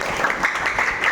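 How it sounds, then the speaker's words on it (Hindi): Schoolchildren clap briefly for a classmate in a classroom, a short burst of scattered, close-up hand claps. "वेरी गुड, ताली बजाओ उसके लिए।"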